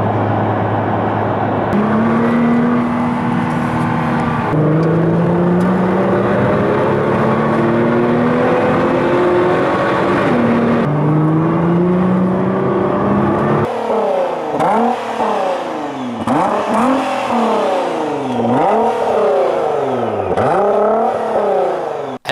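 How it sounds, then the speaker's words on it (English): A custom Nissan GT-R drives hard, its engine loud and close, with long rising rev sweeps through the gears early on, then rapid repeated up-and-down revving surges toward the end. "I'm gonna show you the footage from my drive with that GTR"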